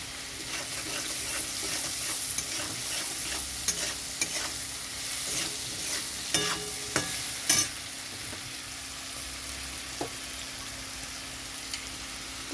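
Papaya with a pinch of cumin powder fries in a pan with a soft, steady sizzle, broken by several sharp stirring knocks and scrapes of a spatula, close up and without talk.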